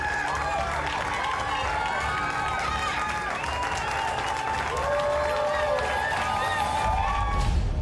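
Applause and cheering from a large crowd at Jonestown, sustained and dense throughout with shouting voices and a noisy crowd texture.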